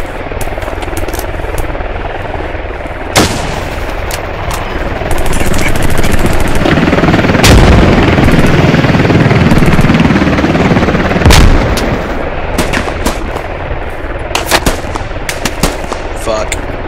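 Machine gun fire in the Squad video game, sustained rattling bursts over a constant low battlefield rumble with a helicopter-like drone, sharper single shots cracking near and far throughout.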